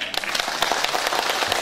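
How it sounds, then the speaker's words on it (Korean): Applause from the audience at a family and filial-piety reading concert in Seo-gu, Daejeon, with many hands clapping in quick, uneven bursts at moderate loudness, nearby and continuous. "큰 박수 부탁드립니다."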